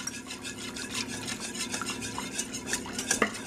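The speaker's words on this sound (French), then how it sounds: "Un premier tiers que je mélange au fouet" A whisk stirs milk into a thickening béchamel sauce in a pan for pumpkin and sausage lasagne, giving a steady, close scraping and light metallic clinking with no talk.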